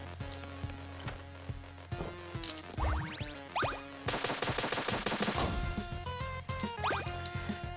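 Shooting a centipede-like boss in the video game Flinthook: quick bursts of rapid, crisp shots with chirpy rising tones and impacts over a steady game soundtrack, moderately loud.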